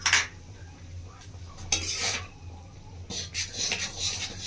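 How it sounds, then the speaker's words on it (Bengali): A spoon scrapes and clinks against a pan while raw mango chutney is stirred, a few bright metallic scrapes and taps spaced irregularly over a quiet background. "এক মিনিট মতো এইভাবে নাড়াচাড়া করে নেবো।"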